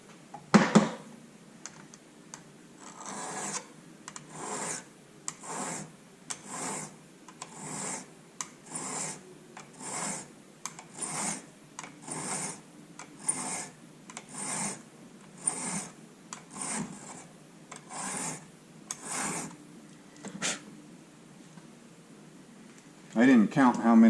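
Short, regular rasping strokes of a sharpening tool work the wire cutter of a Gerber Multiplier multi-tool, a close, steady series of scrapes with a person speaking quietly alongside.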